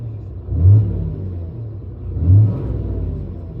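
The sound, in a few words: Cummins 6.7L diesel truck engine revving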